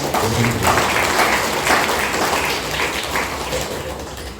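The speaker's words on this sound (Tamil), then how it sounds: "கைத்தட்டு" Sustained applause from a crowd at a Tamil Christian retreat, dense and steady throughout, fading slightly toward the end.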